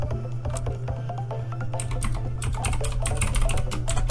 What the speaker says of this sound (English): Sorry for my bad typing.